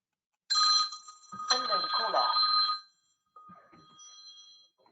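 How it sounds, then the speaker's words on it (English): A telephone rings in an office-style setting with a bright, repeating electronic ring in two loud bursts, followed by a quieter, fainter tone. "sorry for the phone call"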